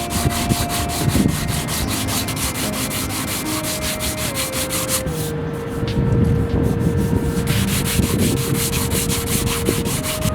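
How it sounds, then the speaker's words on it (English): Hand sanding of body filler on a BMW E30 body panel with a fresh sheet of sandpaper, a steady rapid back-and-forth rasping scrub that runs continuously and close up, growing louder in the second half. "With a fresh sheet of sandpaper, I'm just going to go over this side now and do the same thing as the other side."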